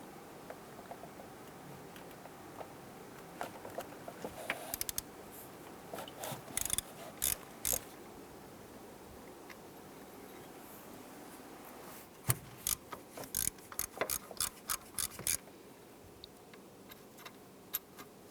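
A 10mm socket on a ratchet loosens exhaust manifold bolts on a 1999-2004 Jeep Grand Cherokee, giving quiet clusters of quick clicking that grow denser toward the end over a faint background.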